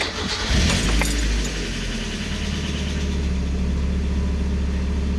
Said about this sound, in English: now you want to start your car, let it build oil pressure, and let it run for about 30 seconds